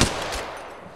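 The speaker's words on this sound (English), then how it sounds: "Getting shot at." Gunfire in the mobile battle royale Apex Legends Mobile: a sharp, loud shot with a ringing tail that decays over about a second, close and alone.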